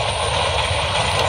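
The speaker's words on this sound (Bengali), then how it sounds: "ফুল ফিল ভরা ট্রেন" A crowded passenger train rolls past, a loud, close, unbroken rumble and roar over the whole short moment.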